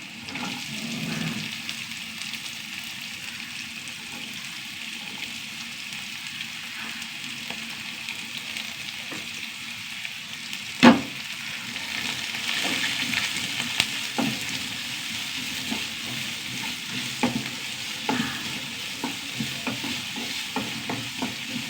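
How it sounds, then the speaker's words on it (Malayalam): Finely chopped onions sautéing in a pan, a steady moderate sizzle with frequent scraping stirs and one sharp clack midway, close and without speech. "നന്നായി വഴണ്ട് വരട്ടെ"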